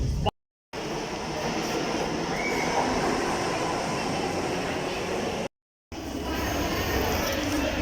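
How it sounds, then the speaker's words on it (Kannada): A Bangalore metro train arriving at Mahalakshmi station rumbles loudly and continuously, wheels and motors droning with a steady roar, the sound briefly cutting out twice. "ರೈಲು ಈಗ ಮಹಾಲಕ್ಷ್ಮಿಗೆ ತಲುಪಲಿದೆ."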